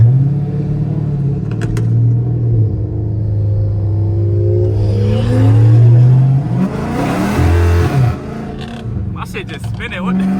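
A 500 hp Dodge Scat Pack engine roars and revs hard while the wheels spin without grip, rising and falling in pitch, with a voice talking over the loud rumble.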